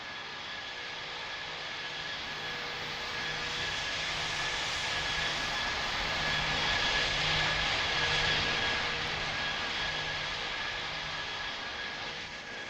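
Airliner engines roar steadily as a plane comes in to land in the Roblox game Pilot Training Flight Simulator. A loud, continuous, broadband whine with a steady tone swells slightly midway, with no voices.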